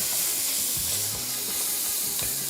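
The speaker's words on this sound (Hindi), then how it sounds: "सबसे पहले इसमें हम शामिल कर रहे हैं मक्खन, इसके बाद इसमें आ जाएगा लहसुन चॉप किया हुआ" Butter and chopped garlic sizzle steadily in a hot pan, a continuous bright hiss with soft stirring scrapes, close and loud with no talk.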